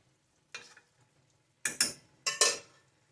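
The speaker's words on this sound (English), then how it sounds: "And stir this around." Spoon scraping and knocking around a pot of taco soup with Rotel, a short scrape followed by two louder pairs of stirring strokes, close and otherwise quiet.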